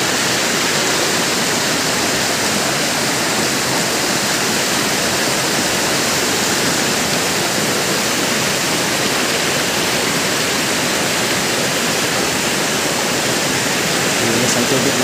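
Abungan Falls in Dingalan, Aurora rushing, a loud, continuous broadband roar of falling water that stays steady and close throughout.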